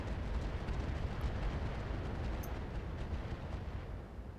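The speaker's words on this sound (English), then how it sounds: "Well, that was a lot of rockets" Rockets fired in a volley during RogueTech combat produce a loud, continuous rumbling roar of overlapping launches and blasts. A couple of brief high whines cut through near the start and middle, and no voices are heard.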